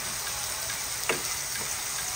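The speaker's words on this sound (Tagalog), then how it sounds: "Nauna na po ang ating bawang. Akin na pong ginigisa." Garlic sautés in a pan, sending up a steady, close hiss of frying with a soft stir or clink partway through and no talking.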